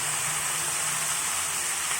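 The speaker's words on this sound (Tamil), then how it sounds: "2 நிமிஷம் வெங்காயம் நல்லா வசங்கணும்" Onions fry in a pan for bitter gourd poriyal, a continuous close crackling sizzle at an even level.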